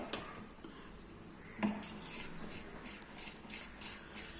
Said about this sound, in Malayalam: ഇനി നമുക്കിതൊരു തവി വെച്ചിട്ട് നന്നായിട്ടൊന്ന് ഇളക്കി കൊടുക്കാം